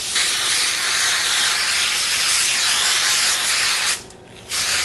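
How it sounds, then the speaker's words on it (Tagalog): Cooking spray hissing from an aerosol can onto aluminum foil in a continuous loud burst, with a brief pause near the end before the spray resumes. "And then, sprayan lang natin to with cooking spray."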